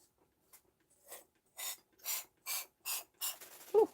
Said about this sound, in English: I've got a spray bottle here.